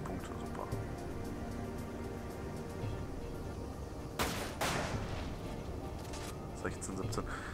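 Bursts of gunfire and a couple of sharp explosive cracks in Final Fantasy VII: Dirge of Cerberus over a dense, busy backdrop of game sound, with a person talking throughout.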